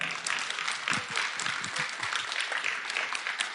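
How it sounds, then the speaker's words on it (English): An audience at a media-attended Sunday service brunch event gives a sustained round of applause, a dense steady patter of many hands clapping throughout. "I would just like to give a round of applause for that."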